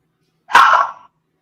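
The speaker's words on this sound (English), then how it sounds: "She doesn't usually bark that much." A single sharp bark from Bella, a female pet dog, close and loud in an otherwise quiet room.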